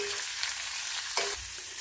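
Thinly sliced onions sizzle steadily in a hot pan while being stirred, with a bright frying hiss and a couple of brief scraping strokes close by.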